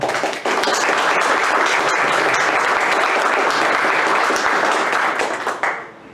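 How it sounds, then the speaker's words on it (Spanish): Loud, sustained applause from a large audience at an academic lecture, steady and dense throughout before tapering off at the end. "a quien les suplico que lo recibamos con un caluroso aplauso."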